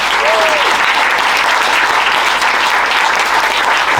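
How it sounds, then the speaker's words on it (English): A conference audience gives a loud, sustained round of applause that fills the whole four seconds at an even density, with a faint voice briefly rising over the clapping near the start. "Please give a round of applause for the wonderful Paul."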